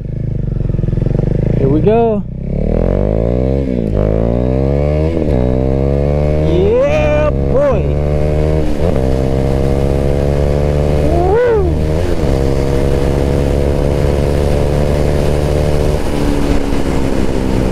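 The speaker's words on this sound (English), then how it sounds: "So, first gear roll." A Husqvarna Vitpilen motorcycle pulls away hard in first gear, its engine loud and close, rising in pitch through repeated climbs, with a rider's voice briefly over the engine roar.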